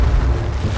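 A loud, low rumbling blast from an explosion in the video game H1Z1, a dense boom filling the short moment with no speech over it.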